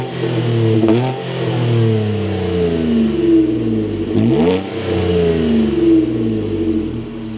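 A 2026 Nissan Frontier Pro-4X with Nismo parts is heard at idle and being revved from the driver's seat. Its engine hum stays steady and close, rising in pitch with two distinct revs, with no talking.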